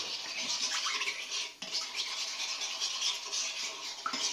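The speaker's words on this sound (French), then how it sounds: "On va mélanger un petit peu afin d'incorporer bien la levure à l'eau." Yeast is stirred into water in a bowl for a bread poolish, giving a continuous close scratchy swishing and scraping with one brief pause midway.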